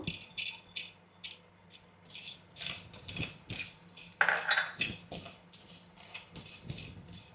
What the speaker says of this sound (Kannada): ಜೀರಿಗೆ ಇದಕ್ಕೆ ಹಾಕ್ಕೊಳ್ತಾ ಇದ್ದೇನೆ ಒಂದು ಸ್ವಲ್ಪ ಕಾಳು ಮೆಣಸು